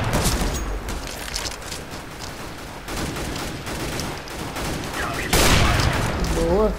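Rapid bursts of gunfire from the tactical shooter CS:GO, repeated volleys at close range, loud and continuous, with a sharper louder burst near the end and a voice talking briefly over the shooting.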